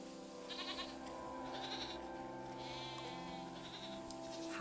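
Goats bleating in a cozy video game, four or five short nasal bleats spaced across a steady backdrop of soft game music, fairly close and clear, with no talking over them.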